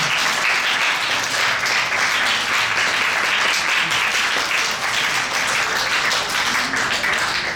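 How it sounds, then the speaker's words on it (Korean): A congregation at a Korean church's Sunday worship service claps together in a thick, sustained round of applause, loud and continuous from start to finish. "박수 한번 보냈으면 좋겠습니다"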